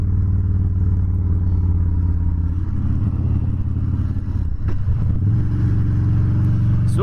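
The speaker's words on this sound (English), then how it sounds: "this exhaust sounds good. It's a nice pipe." A 2016 Harley-Davidson Dyna Street Bob engine rumbles loud and close while riding, a deep steady exhaust note that shifts pitch as the rider eases off and picks up again.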